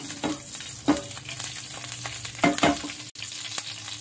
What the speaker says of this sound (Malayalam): ഈ വെളിച്ചെണ്ണ ചൂടായാൽ നമുക്ക് കടുകും ഉഴുന്നുപരിപ്പും ഉള്ളിയും ഒന്ന് വറുത്തിടാം